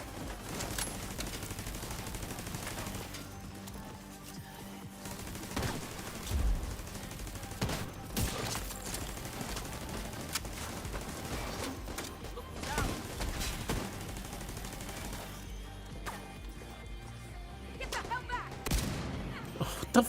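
Gunfire in The Division 2 video game, with repeated bursts of automatic shots and scattered single cracks at moderate loudness across a noisy, busy firefight.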